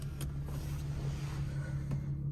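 Tuned Audi S4 B8.5 idling steadily at low pitch, a constant hum with faint ambient noise and no talking.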